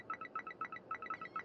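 A telephone with an answering machine rings in the video game Drug Dealer Simulator 2, giving a quiet electronic trill that repeats in quick, evenly spaced bursts with no voices.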